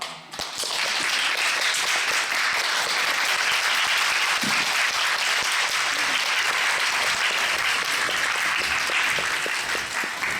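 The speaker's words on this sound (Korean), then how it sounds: "여러분 큰 박수 부탁드립니다." Sustained, dense applause rises abruptly at a concert curtain call and holds steady and loud, a large crowd clapping continuously.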